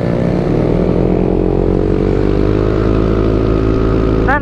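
A motorcycle engine roars loudly and steadily up close, a dense continuous drone during a night ride, with a brief rising whine just at the end.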